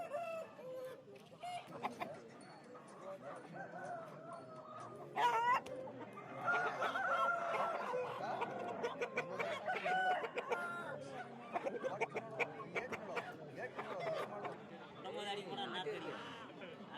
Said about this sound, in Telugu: వీడియోలో చూడొచ్చు సైజులో పందెం కోళ్ళు